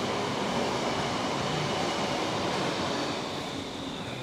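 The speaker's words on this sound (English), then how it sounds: "We're gonna kill him with the train though." A video game train rumbles past as it runs over a character, a dense, continuous roar that stays loud and steady throughout.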